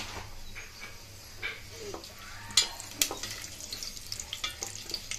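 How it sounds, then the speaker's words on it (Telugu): Bay leaf frying in a pan for coconut milk pulao, a quiet steady sizzle with occasional sharp pops and stirring clicks, fairly faint throughout. "ఇందులోనే బిర్యానీ ఆకు కూడా వేసుకుందాము. ఒకసారి బాగా ఫ్రై చేసుకుందాం."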